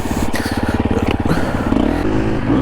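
A Triumph TF250E dirt bike revs hard out in the Australian bush, its engine note pulsing fast and then climbing and winding out, loud and close, with some clattering from the machine.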